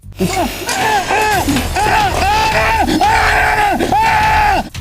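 A man screams in loud, drawn-out, wavering bursts, about five in a row with short breaks, inside an abandoned camper set up as a lab in a forest.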